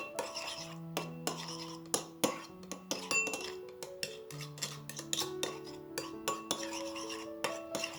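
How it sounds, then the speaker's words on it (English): A metal spoon clinks repeatedly against a bowl while mixing a hoisin sauce mixture for a vegan tofu banh mi, giving close, irregular taps and scrapes with ringing tones throughout. "Then we want to mix everything up really well."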